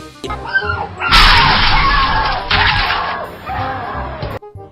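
Dogs making sharp, loud bursts of noise that swell and fade across a few seconds, with crash-like clattering mixed in; no clear speech.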